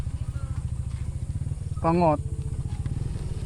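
Motorcycle engine idling with a steady low chugging pulse throughout, close by, at a beach resort in Camarines Sur, while people talk briefly over it.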